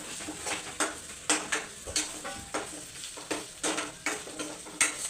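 A spoon scrapes and stirs ginger-garlic paste into sautéed chicken in a pan, giving repeated soft scraping strokes in an irregular rhythm over a faint sizzle, close and fairly quiet.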